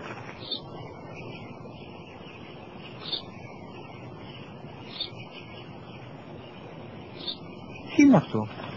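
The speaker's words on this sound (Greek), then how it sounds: "Ένα σπουργίτη είναι, πατέρα." A sparrow gives single short chirps every couple of seconds, faint and somewhat distant over a quiet background.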